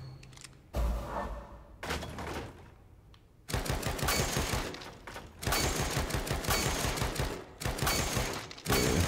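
Bursts of rapid automatic gunfire rattle out from the video game The Evil Within 2, loud and close, arriving in several sustained volleys separated by brief quieter gaps with no talk over them.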